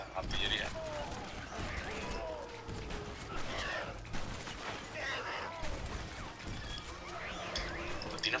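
Battle gunfire in Red Dead Redemption: Undead Nightmare, a steady mix of shots, crashes and distant booms over a noisy backdrop, with voices chatting over it.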